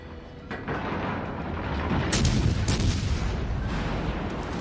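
Warship main guns firing in World of Warships, heard as a sustained rumbling barrage with sharper cracking blasts standing out midway, no talk over it.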